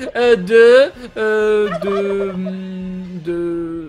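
A turkey gobbles in a loud, close sound-effect call: a rapid rattling burst followed by a longer warbling stretch that trails off, alone with no talk over it.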